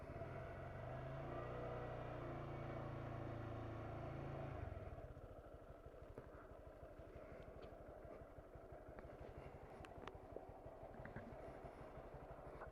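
Motorcycle engine idling steadily at first, then the tone drops and changes as the clutch is let out into the friction zone, with a continuous low rumble and faint clatter, no voices.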